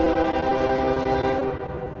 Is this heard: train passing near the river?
yes